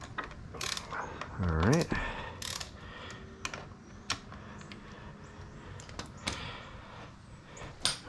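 Ratchet wrench loosening bolts on a GPX FSE250e motorcycle: a few short clicking and ratcheting bursts scattered through the clip, close and moderately loud, with a brief voice interjection early on.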